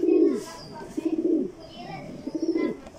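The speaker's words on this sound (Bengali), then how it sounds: "এই যে একটা পেয়ার কবুতর আমার দেখতে পারতেছেন" A pair of young silver racer pigeons, a cock and a hen, coo loudly and up close in three distinct rolling bursts with short pauses between them.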